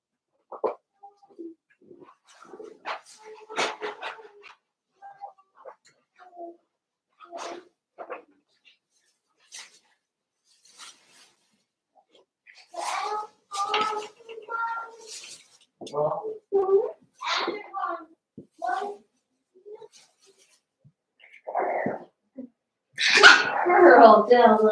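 Puppies wrestling and playing with an adult dog, close and loud, with scattered yips, snuffles, growling and sneezy snorts that build into a busier flurry and sharp barking near the end.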